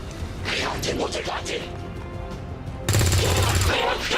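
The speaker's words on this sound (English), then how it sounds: "Let's see if Popoff can get a shot." A soldier named Popoff fires a shot in the video game XCOM 2: after a stretch of voices and game ambience, a sudden loud, sharp gunfire blast lands near the end and rings out briefly.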